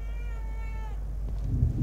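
A cat meows in The Evil Within 2, a drawn-out tonal cry that fades after about a second, followed by low rumbling game ambience.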